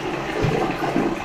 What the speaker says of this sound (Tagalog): Functional, may tubig.